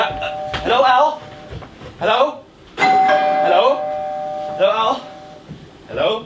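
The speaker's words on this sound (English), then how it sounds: "That's the doorbell, dear, not the telephone." A doorbell rings repeatedly in a stage play, sustained bell tones sounding under and between a man calling out on the telephone.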